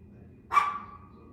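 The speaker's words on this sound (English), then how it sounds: "That's my dog, Emma, who was barking a few seconds ago" A single short dog bark, fairly close and clear, rises over a low background hum and trails off quickly.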